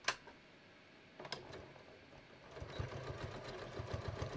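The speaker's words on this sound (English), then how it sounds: "I'm just going to start sewing my dart." A home sewing machine stitching a dart in fabric, starting after a few faint clicks and running as a steady, fast, quiet mechanical whir with rhythmic ticking, close by with no speech over it.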